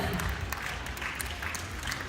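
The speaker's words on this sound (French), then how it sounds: "je vous demande s'il vous plaît de l'applaudir." A pageant audience applauds a second runner-up in the Miss Pin-Up contest with steady, moderately faint clapping lasting about two seconds.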